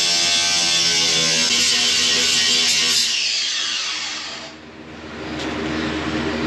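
Grinder whining loudly during interior demolition of a skoolie school bus, a harsh high buzzing that holds steady, then drops briefly before spinning back up.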